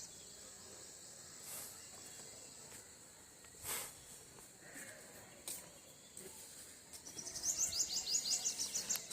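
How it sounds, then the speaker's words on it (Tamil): Faint birdsong and chirps drift over a quiet outdoor hiss, with a burst of rapid twittering calls growing louder near the end. "ஸோ இந்த பறவைகளுடைய ஓசை மிக இனிமையாக இருக்கும்."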